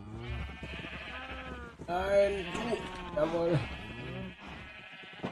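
Sheep bleating in the video game Minecraft, several clear bleats close up and mixed in with someone talking over them.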